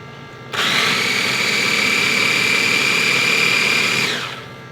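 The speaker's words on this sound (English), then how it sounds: "Let's plug in a small food processor." A small food processor runs at high speed on a portable power station, switching on sharply, whirring steadily with a high motor whine for several seconds, then winding down.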